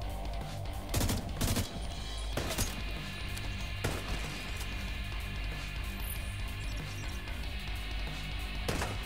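In The Division 2 video game, a combat scene has loud bursts of gunfire and sharp blasts, including the flashbang grenade. Several hard impacts stand out early, followed by a dense, continuous wash of noise.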